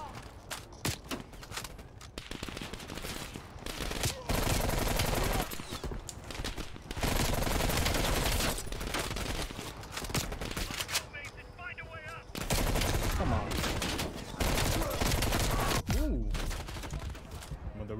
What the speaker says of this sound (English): Oh, you know, I'm shooting it.